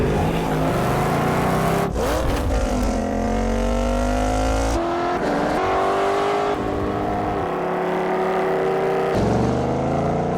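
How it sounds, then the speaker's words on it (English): A Ford Mustang engine revs hard and climbs through several gear changes, loud and close. A sharp cut breaks the roaring acceleration partway through. "Ford Mustang."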